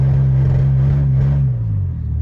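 A 2004 Dodge Dakota in four-wheel drive, stuck, its engine droning loud and close at a high steady rev before easing down.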